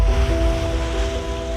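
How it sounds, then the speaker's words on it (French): Rough sea surges and washes against a sailing boat on an ocean crossing from Tahiti toward Québec. A continuous close roar of water and wind runs over a steady low hum. "la mer formée est toujours là, et bien qu'on l'invite à se calmer, elle n'en fait qu'à sa tête"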